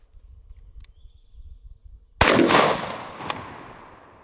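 A shotgun fires a single loud slug at a helicopter blade outdoors, a sharp blast followed by a rolling echo and a brief secondary crack, after near-quiet ambient wind.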